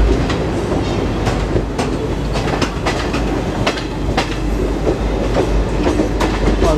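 A train stands at a Mumbai suburban platform with a loud, continuous rumble and rhythmic clickety-clack of wheels over rail joints, sharp metallic clanks recurring throughout.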